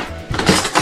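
Metal spoons clink together briefly while being sorted, a few quick close metallic taps and rattles in under a second.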